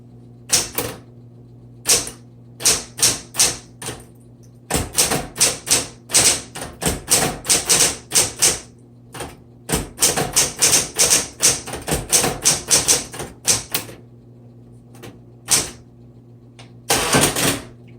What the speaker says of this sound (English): Now with the power return, it is pretty jerky, so you want to make sure your typewriter is on a sturdy table.